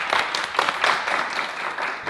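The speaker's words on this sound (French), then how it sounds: "applaudissements s'il vous plaît." Audience applause at a festival event, a moderate, uneven patter of clapping from a modest crowd with irregular peaks, lasting about two seconds without speech.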